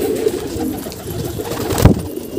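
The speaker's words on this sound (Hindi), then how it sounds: "ये बैठा नया कबूतर" Pigeons coo close by near a splashing water fountain, low throaty calls repeating over a constant wash of falling water.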